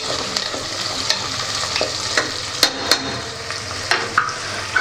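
Gentle frying on a low flame for tomato biryani, a continuous soft sizzle with intermittent scrapes and taps of a spoon stirring the pan, close by.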